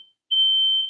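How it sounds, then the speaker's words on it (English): A home fire alarm sounds during an online philosophy lecture: a faint brief beep, then a loud, steady, piercing tone that continues unbroken, with no voices. "oops, our fire alarm just went off."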